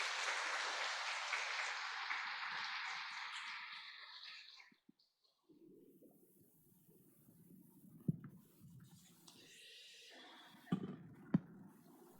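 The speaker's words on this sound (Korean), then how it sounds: "우리 축복의 박수 보내주십시오." A church congregation at a Korean Sunday worship service claps in blessing: a few seconds of dense, even applause that fades out, followed by a quiet room with a few faint knocks and shuffles.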